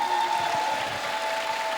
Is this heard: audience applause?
yes